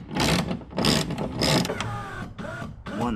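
Socket ratchet undoing screws on a Mazda MX5 window runner: close, continuous clicking and grinding mechanical ratchet sound in a few loud bursts, with no talk.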